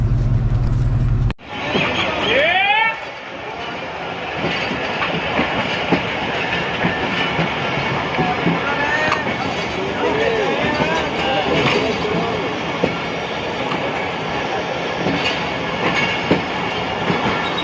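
A train rolls past a railway crossing near Badomalhi, Narowal district, with continuous clickety-clack of wheels over rails, loud and close, after an abrupt onset, with people talking beneath the rumble.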